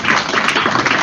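An audience at a Knowledge Seekers Workshop applauding, a brief dense burst of many hands clapping at close range, loud and steady for about a second.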